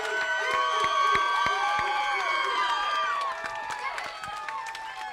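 A crowd at a high school bowling state finals cheers, shouts and whistles loudly for state champions Jasper, with sustained noise and children's high-pitched yells throughout.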